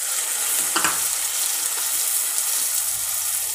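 Tomatoes go into sautéed onions and capsicum for Maggi masala pasta, sending up a dense, steady hissing sizzle with a brief stirring clatter early on, close and loud, with no speech.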